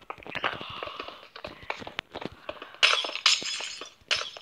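Glass blocks shatter repeatedly in Minecraft during a spleef match, a rapid run of crisp breaking and clinking bursts with several louder smashes near the end, close and without talk.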